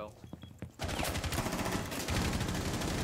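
Automatic gunfire in the tactical shooter Rainbow Six Siege bursts in after a brief quieter moment and rattles on loud and continuous to the end.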